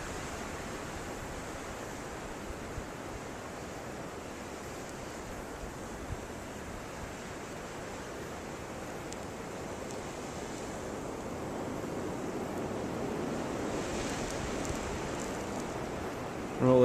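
Steady roaring wind of a blizzard blows continuously near the microphone, a dense wash of noise that swells slightly toward the end.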